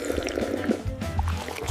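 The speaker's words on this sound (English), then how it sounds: "I am drinking water." Water poured into a container and then drunk, with soft liquid trickling and gulping sounds, quiet and close by.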